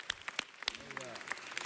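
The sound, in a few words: round of applause at city council meeting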